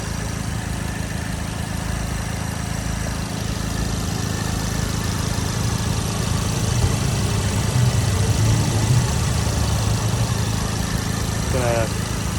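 A 2016 Audi S3 Premium Plus with an AWE exhaust and APR software idles close by, holding a steady low drone, with a voice briefly under it.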